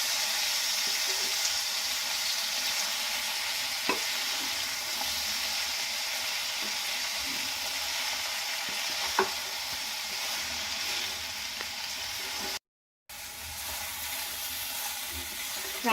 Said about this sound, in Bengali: নারকেলটা দিয়ে নিয়ে নাড়াচাড়া করে নিচ্ছি।